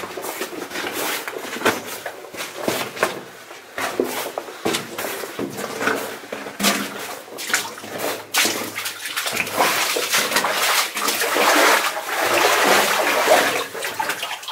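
Water splashes and trickles inside an old gold mine in the Sierras, a busy, close wet sloshing that runs steadily throughout with uneven bursts and no talking.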